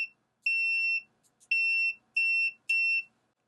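A FNIRSI 2C23T portable multimeter beeps during a continuity test: four sharp, clear electronic tones of about half a second each, close and alone.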